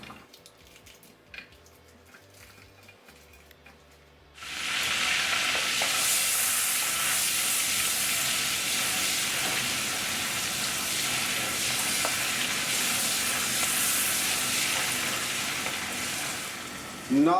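About a tablespoon of butter dropped into hot oil in a wok sets off a loud, steady, close sizzle that runs on unbroken after a few quiet seconds of faint kitchen clatter, no voices.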